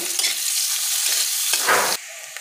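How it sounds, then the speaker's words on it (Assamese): Chopped onions fry in hot oil in a pan for a climbing perch (koi fish) curry, giving a loud, steady sizzle with a brief stirring burst near the end before the sound drops to a quieter fry. "ইয়াত পিঁয়াজ দি দিছোঁ। পিঁয়াজখিনি অকণমান ভাজি ল'ম ভালকৈ।"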